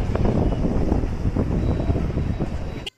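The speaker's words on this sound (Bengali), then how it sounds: "বাইকে ওঠার পর সত্যি করে খুবই হাওয়া দিচ্ছিল" Strong wind buffeting the microphone while riding a motorbike after rain, a loud, continuous rumbling roar that cuts off abruptly at the end.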